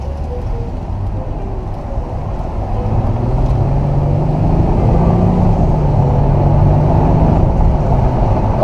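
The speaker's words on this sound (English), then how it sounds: "Okay, this car definitely has some pickup." A Mercedes CLK convertible with a V6 engine accelerating on the road, a steady low engine drone rising in pitch and building in loudness from the cabin, with road and wind noise underneath.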